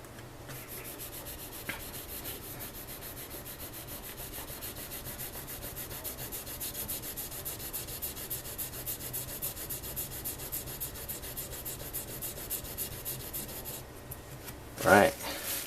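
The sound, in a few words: leather knife bevel sharpened on a sharpening stone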